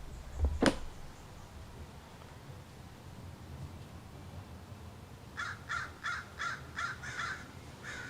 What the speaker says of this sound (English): This crow above me was right above me